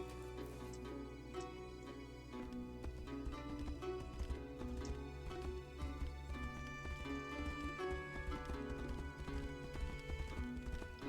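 Horse hooves clip-clopping with an occasional whinny in the fantasy video game Tainted Grail: The Fall of Avalon, heard steadily beneath a full layer of game music throughout.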